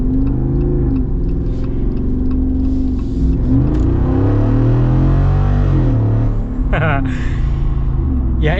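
A Jeep Wrangler Rubicon 392 V8 revs under throttle with a deep rising engine roar, loud and close, while people talk over it.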